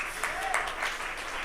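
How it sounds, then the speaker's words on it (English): Crowd applause breaks out at a political speech, a dense, steady wash of clapping from a sizable audience held evenly across the short stretch. "We can clap for that."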